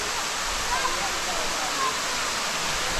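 The waterfall at Ash Cave in Hocking Hills, Ohio, a steady, full, hissing roar of falling water that stays even and continuous, heard nearby with no talk over it.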